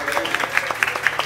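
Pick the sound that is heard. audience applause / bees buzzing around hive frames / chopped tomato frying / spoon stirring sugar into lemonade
audience applause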